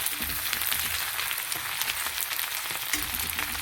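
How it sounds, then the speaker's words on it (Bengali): Onion frying lightly in a pan makes a soft, even sizzle throughout, with faint crackles and no talking. "পেঁয়াজটা বেশি ভাজবো না, একটু হালকা করে ভাজবো।"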